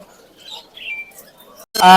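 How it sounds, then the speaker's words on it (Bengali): Birds at the Mirpur 1 bird market in Dhaka give faint chirps and calls, then a sudden loud, close squawk bursts out at the end. "মাসাল্লাহ এখানে চমৎকার কিছু পাখি আছে আমার ভাইয়ের কাছে"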